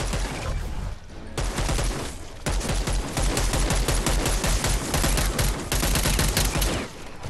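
Rapid bursts of gunfire from the zombie video game Dead Island 2, loud and dense, with automatic weapon fire rattling almost continuously except for a short pause near the start and a tail-off at the end.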